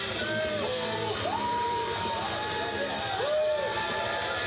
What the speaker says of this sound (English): In front of a live crowd, a live rambunctious crowd.